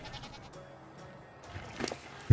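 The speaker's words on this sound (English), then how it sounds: "That's full size adult goat." An adult goat in the ARK video game gives a short bleat near the end, following a quiet stretch of low ambient game sound.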